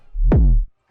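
An unmastered trap kick drum: a single deep, booming hit that drops quickly in pitch and rings for about half a second, loud and alone.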